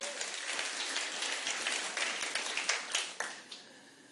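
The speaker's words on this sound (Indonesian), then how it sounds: "berikan tepuk tangan yang meriah bagi Dia" A church congregation applauds, a dense spread of many hands clapping at moderate distance, swelling and then thinning out toward the end.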